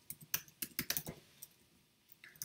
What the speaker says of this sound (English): I would type in the values that I want.